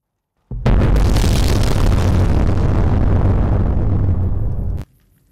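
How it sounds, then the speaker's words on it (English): A massive, continuous explosion roar from a bombardment in Fallout: New Vegas bursts in abruptly, many blasts merged into one loud wall of sound that holds for about four seconds before cutting off sharply. "the explosions of any previous bombardments all seemed to happen at once"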